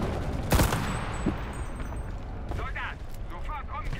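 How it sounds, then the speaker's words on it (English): A Panzerfaust is fired with one sharp, loud blast and explosion in the WWII shooter Enlisted, in a Berlin assault at the Kroll Opera House. The blast rises over steady battle noise, and a player talks through it. "I have skill issue that I shot Panzerfaust and killed myself"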